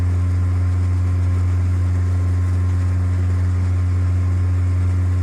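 A light single-engine airplane accelerating in level flight out of slow flight: a steady, loud droning engine and propeller hum with a strong low tonal buzz, continuous and close, with no talking.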